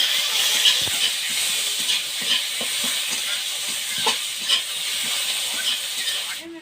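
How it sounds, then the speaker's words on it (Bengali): Chopped onion hits hot oil already seasoned with five-spice, dried chilli and bay leaf, giving a steady loud hiss and sizzle with faint stirring clicks. "এবার দেবো পেঁয়াজ কুচি,"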